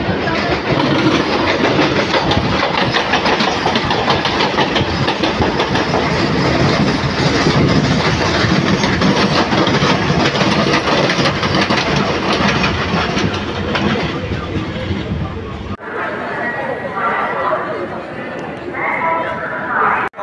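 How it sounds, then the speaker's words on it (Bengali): A Bardhaman–Howrah local train pulls in at a station, a loud steady roar of rolling wagons and rail clatter that fills the scene, then cuts abruptly to quieter station ambience near the end. "এসেছে আমাদের বর্ধমান হাওড়া স্থানীয় ট্রেন"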